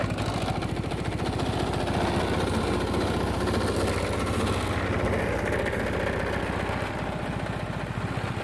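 A Honda PCX160 scooter engine idles steadily after an electric start, its even, close mechanical putter running throughout with no talk over it.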